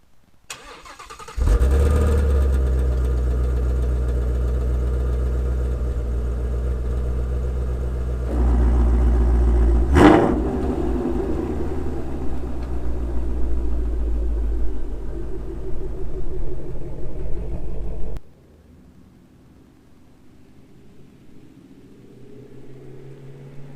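A Shelby GT350R's engine starts with a loud rumble, settles into a steady idle, swells briefly with a sharp blip around the middle, then the car moves off and the sound drops away to quiet road hiss.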